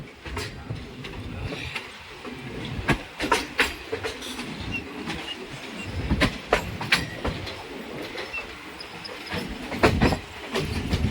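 Rhythmic clattering of train wheels passing over a track crossing, heard aboard the Saptagiri Express between Chennai and Tirupati, loud and close, with repeated sharp metallic clacks over a steady rumble.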